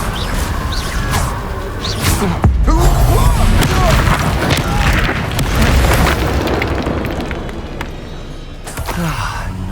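In Hogwarts Legacy, a Confringo spell bursts into a booming fiery explosion with a whooshing blast, loud and sustained for several seconds amid combat effects.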